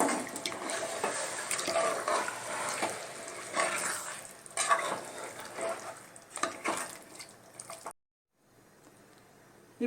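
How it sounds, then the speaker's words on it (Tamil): Mutton kuzhambu cooking in a pan as water is poured in, a steady close sizzle and bubbling with stirring, lasting about eight seconds before cutting to near silence. "நம்ம இப்போ தண்ணி சேர்த்து விட்டுடலாம் தேவையான அளவு."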